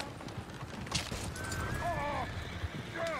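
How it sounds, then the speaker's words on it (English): Horses in Red Dead Redemption 2 during a bar brawl: hooves clip-clop under a busy game soundscape, and near the end comes a sharp whinny from one horse. "The horses!"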